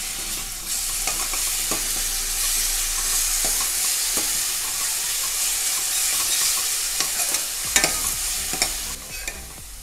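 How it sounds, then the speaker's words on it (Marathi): A spoon stirs chili paste into sizzling garlic chutney in a pan, with scraping strokes over a continuous loud frying hiss and no voices. "आणि मिक्स करूया."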